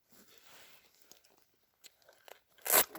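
Outdoors during a drought survival trek, a food bar wrapper rustles and crinkles in short, sparse bursts before a loud, close tearing crunch near the end.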